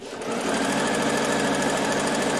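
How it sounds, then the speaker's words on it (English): A sewing machine runs long gathering stitches on a ruffle for a skirt, starting up and then holding a fast, even mechanical whir nearby without any voices. "You need the biggest stitch length on your sewing machine"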